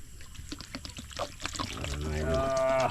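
Water poured into a pan of large prawns being cooked, a rising, filling pour that grows louder toward the end over clattering cookware and talk.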